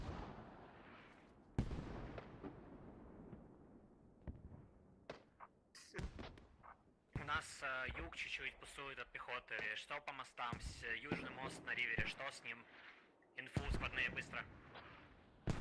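Mortar and gunfire thumps in a Squad esports match, a series of sharp booming impacts and bursts at moderate distance, mixed with a commentator's steady speech throughout.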